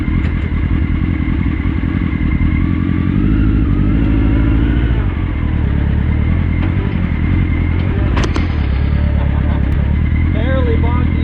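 The engine of a mini trophy truck project in a four-wheel-drive test labors and revs loudly up close with clattering drivetrain noise, and a person talks over it.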